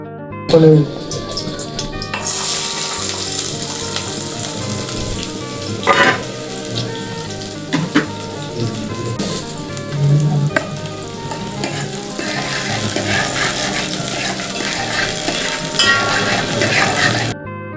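Food frying in hot oil, a sustained loud sizzle with occasional clinks and scrapes of a utensil and brief bursts of louder crackling.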